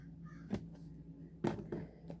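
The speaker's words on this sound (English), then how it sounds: "That crow." A crow caws faintly a few times at irregular intervals over a low background hum.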